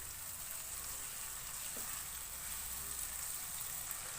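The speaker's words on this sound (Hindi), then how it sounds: "1 मिनट के लिए सारे मसालों को अच्छी तरह से भून लेंगे।" Spices sizzling in a pan over a medium flame for daal with softening tomatoes, a soft steady hiss and crackle that holds evenly throughout, faint and close, with no voices.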